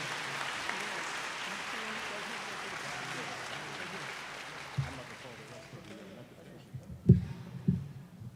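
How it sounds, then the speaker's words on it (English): Crowd applause for the mayor of Chicago at a press conference, a dense steady clatter of clapping through most of the clip that thins out near the end, leaving a few scattered louder claps. "Let's give our mayor another round of applause"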